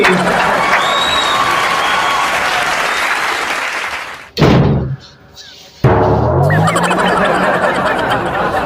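A studio audience at a Pakistani political comedy show bursts into loud applause with cheering, a dense, sustained roar of clapping that cuts off abruptly, returns briefly, then swells again.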